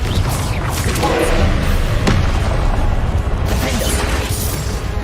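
Confringo spell explosions in the video game Hogwarts Legacy, a loud, dense and continuous barrage of booming blasts and heavy thuds that runs without a break and with no talking.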